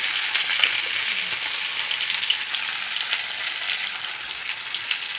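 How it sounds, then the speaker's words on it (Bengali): Beans sizzle steadily in a pan with mustard and poppy seed, a close, even frying hiss with a few faint stirring scrapes and no talk. "ভেজে নিলাম ভালো করে, লবণ দিয়ে দেবো"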